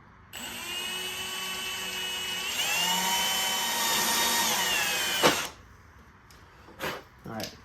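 A power drill whines loudly for about five seconds as it drives a self-tapping screw into a car radiator during a power steering cooler install, its pitch shifting under load before it cuts off, followed by a few short knocks.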